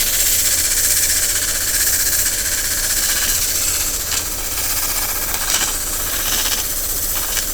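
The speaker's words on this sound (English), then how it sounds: "I just want to come in with a little bit of sandpaper and clean up the inside" Sandpaper rubs against the inside of a spinning wooden box on a running lathe, a continuous rough hiss over the steady drone of the motor, with a few brief scraping swells.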